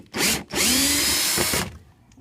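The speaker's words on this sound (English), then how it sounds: "we'll go ahead and put our drill there" A power drill whirs into a wooden brace on a deconstructed tree structure, a short burst followed by a longer sustained loud run, then stops.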